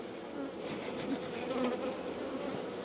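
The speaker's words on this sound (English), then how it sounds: "I've got a bee shooting the banana right in my face." A bee buzzing right in front of the face near a banana at a Georgia farm-yard apiary, a steady close, continuous drone with slight wavering in pitch and loudness throughout.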